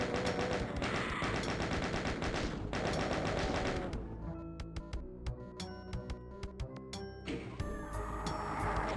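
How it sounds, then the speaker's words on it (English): Rocket launcher fire and explosions in Doom: Legacy of Rust, a loud dense barrage of blasts for the first four seconds, then a string of sharp separate impacts and bangs with lighter clatter between them. "firing rockets when you're near ledges like this"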